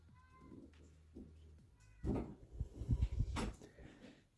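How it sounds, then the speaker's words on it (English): A cat meows at a house door, giving a couple of faint, short meows before louder bumping and rattling noises close by. "Sounds like Ziggy's at the door."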